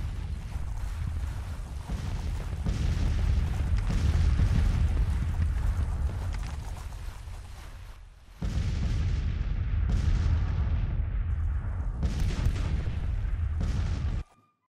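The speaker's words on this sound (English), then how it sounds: "What's that, the artillery's? Are they shooting?" Artillery fire in the Grand Tactician Civil War strategy game rumbles as heavy, continuous booming with distant blasts layered together, then a sudden cut and renewed barrages with sharper reports near the end.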